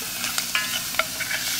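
Onions sizzling in a hot frying pan with a steady soft crackle, broken by a few sharp scrapes and clicks as they are stirred around, close and without talk.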